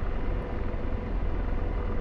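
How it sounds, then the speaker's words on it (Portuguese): An AH-64D Apache helicopter's engine runs in the DCS flight simulator, a steady, even low rumble that holds throughout with no talk. "Agora o próprio motor do helicóptero está fornecendo energia para o sistema"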